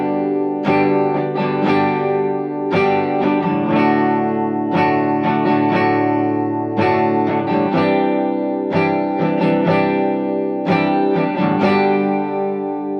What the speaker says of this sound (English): So this is how you strum the best strum pattern for acoustic guitar.